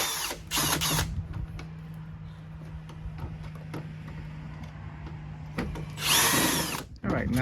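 A power tool removes screws from a Hyundai Sonata tail light, with short buzzing whirs at the start and a louder burst near the end, separated by a steady low hum and small mechanical clicks.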